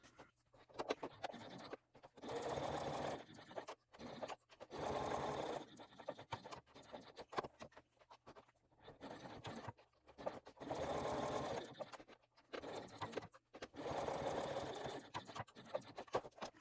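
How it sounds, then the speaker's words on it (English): A sewing machine top stitches an eighth of an inch around the connector on a small crossbody bag, running in several steady bursts of a few seconds each with short pauses between, close and clear with no talking. "And then we will top stitch around the connector at 1/8 of an inch."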